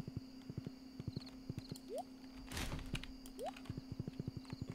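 Horse hooves clip-clop at a steady walking rhythm in the Stardew Valley video game, the footsteps stopping briefly midway as a soft rushing burst passes, then resuming over constant game music.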